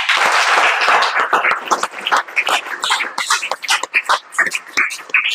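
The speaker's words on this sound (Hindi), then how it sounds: "तो श्रेया सिंह के लिए एक जोरदार ताली।" Clapping from a small audience for a contestant on a Hindi quiz show styled after KBC, dense and close at first, then thinning into scattered individual claps.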